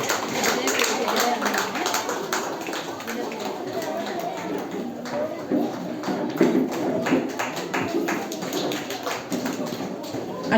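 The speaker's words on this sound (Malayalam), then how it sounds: "കയ്യടി കുറവാണ്" Applause from an audience at a school anniversary prize-giving, steady moderate clapping throughout with uneven individual claps, while a voice speaks over a loudspeaker.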